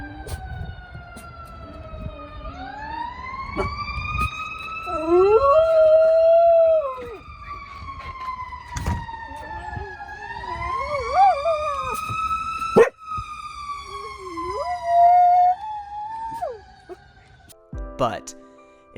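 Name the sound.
dog howling along to a siren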